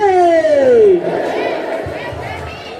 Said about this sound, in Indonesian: beri tepuk tangan yang meriah untuk kelas 7C